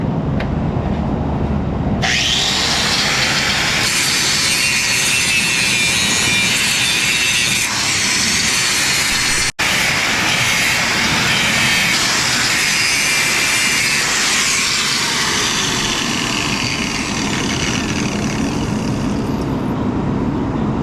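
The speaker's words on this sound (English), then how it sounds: "it's a Bosch angle grinder" A Bosch angle grinder cuts through metal in an auto repair shop, spinning up into a loud, continuous, harsh whine that holds steady and close for most of the stretch.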